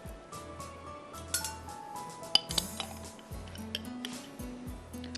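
A spoon stirs ginger garlic paste in a metal pan on the stove, giving irregular scraping and clinking strokes with a few sharp knocks against the rim, close and fairly loud.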